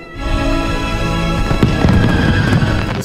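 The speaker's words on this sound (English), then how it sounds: "Started with the fireworks and ended with the fireworks." Fireworks from the Alice in Borderland finale burst and crackle steadily for about three seconds, with a denser cluster of sharp pops and booms toward the end over a busy, loud background.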